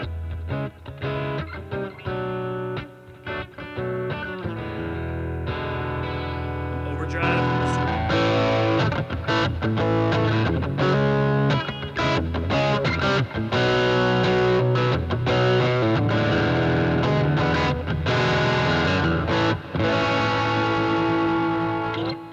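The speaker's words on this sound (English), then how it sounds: "We're going to switch over to the GT 1000 here on the electric guitar setting," Fender American Acoustasonic Telecaster played through its single-coil pickup into a Boss GT-1000 on an electric guitar setting, giving a driven, effected electric tone with sustained chords and picked notes that thickens after a few seconds.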